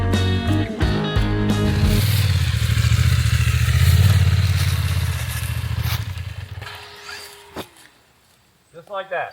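An adventure motorcycle creeps slowly downhill on its front brake and clutch, its low engine rumble steady and loud at first, then fading into quieter scrapes and clatter near the end, with a voice talking over it.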